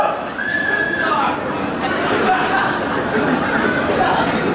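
A person imitating a horse's neigh in a sound-guessing game before an audience, a brief high whinny-like cry quickly swallowed by loud crowd chatter and laughter.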